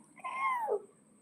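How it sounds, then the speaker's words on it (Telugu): A single close, clear meow from a cat, rising and then falling over about half a second, with quiet surroundings before and after. "ఇక్కడే ఉంది పిల్లి"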